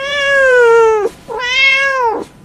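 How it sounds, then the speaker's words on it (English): A cat gives two long, loud, close meows, one after another with a short gap, clear and alone. "Then a faint meow stopped him."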